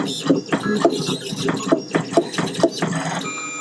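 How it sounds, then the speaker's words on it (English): An engraving machine cuts a trophy cup base in a trophy shop, giving a busy mechanical whirring broken by regular, evenly spaced taps and clicks as the cutter works. "That's how you engrave a cup base."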